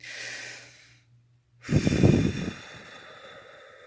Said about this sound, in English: You start breathing, taking belly breaths instead of trying to breathe from your lungs.